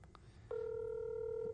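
A telephone call being placed, with a few faint dial tones followed by a steady, loud ringback tone that holds for about a second.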